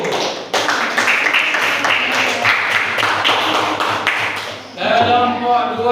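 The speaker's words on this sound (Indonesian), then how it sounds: "Tepuk tangan dulu." An audience claps in a classroom after a group presentation at a teacher-certification performance test, a dense burst of clapping lasting several seconds before a voice speaks over it near the end.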